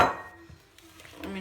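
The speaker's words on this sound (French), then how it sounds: "On mélange bien." Blighat dough is mixed in a bowl, with a brief clatter of utensil against dish at the start and again near the end and quiet gaps between, close and fairly faint.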